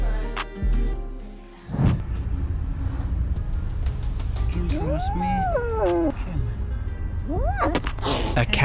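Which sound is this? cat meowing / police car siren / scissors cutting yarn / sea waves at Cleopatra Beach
cat meowing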